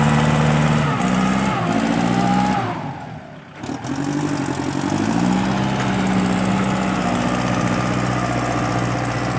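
A tractor engine runs loud and steady at mid pitch, briefly dipping in strength before returning to a constant drone, with faint voices underneath.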